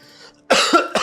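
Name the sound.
cough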